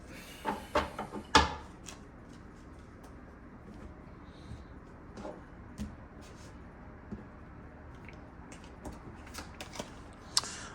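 Tarot cards are shuffled and tapped close by, with a quick burst of riffling clicks at first, then scattered soft taps and slides in a quiet room.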